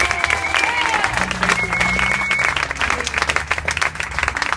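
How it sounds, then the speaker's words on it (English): Outdoors at a rally against a demolition on East 11th Street, a crowd claps in a loose, uneven round with a few whoops and cheers, while voices and background hum carry beneath it. "Let's give them a round of applause for all of them."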